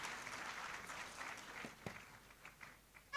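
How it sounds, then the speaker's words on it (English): Audience at a political policy event gives a guest a round of steady applause, moderately loud and continuous, thinning toward the end with a few louder individual claps standing out. "A round of applause for him for coming."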